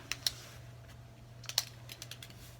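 Keys on a computer keyboard clack in a short, uneven burst, close and fairly quiet, with a few sharper strikes among lighter taps and no voices.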